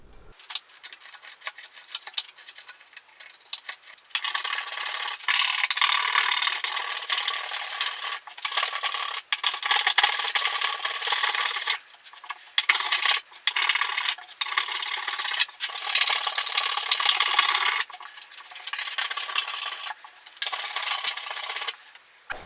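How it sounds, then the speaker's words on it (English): A cabinet scraper is pulled across a carved wooden ES 335-style guitar top in repeated bursts of dry, rasping strokes, close and fairly loud, with brief pauses between passes and no talking. "the bulk of the rough scraping done now"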